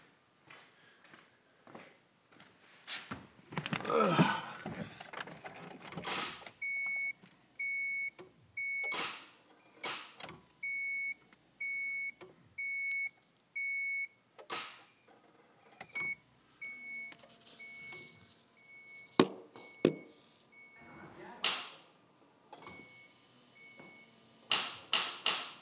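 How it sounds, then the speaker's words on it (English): A 1990 Honda CRX that will not start and drains its battery makes a repeated electrical clicking when the key is turned. Bursts of rapid clicks mix with steady, evenly spaced beeping pulses over a long, fairly quiet stretch with no voices. "when I go to start it, it makes this weird clicking noise and drains the battery."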